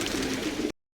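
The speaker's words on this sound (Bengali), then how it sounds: "তো কত জোড়া পায়রা আছে দেখো" Pigeons kept at a pigeon farm in Saudi Arabia coo low and throaty in a brief burst. The sound is close and moderately loud, then cuts off abruptly.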